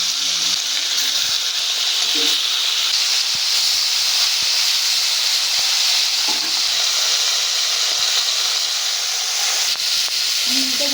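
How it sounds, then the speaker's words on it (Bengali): Bhola fish frying in hot oil for a spicy Bengali fish curry, a steady loud sizzle and hiss with faint spoon or pan clinks, no talking. "তেলটা গরম হয়ে গেছে এবার আমি মাছগুলো একে একে ধরে নেব"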